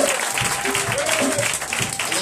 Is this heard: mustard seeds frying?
no